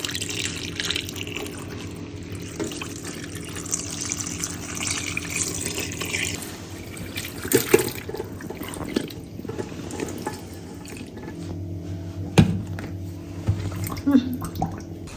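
Water is poured and trickles onto a goat skin being prepared for a churn, splashing and dripping at close range beneath a speaking voice.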